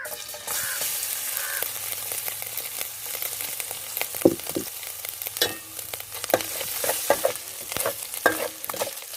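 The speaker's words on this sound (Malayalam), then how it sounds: "വെളുത്തുള്ളി ഇഞ്ചി ഇട്ട് കൊടുക്കുക." Chopped garlic and ginger fry in hot coconut oil, a continuous close sizzle broken by scattered stirring clicks and spoon taps.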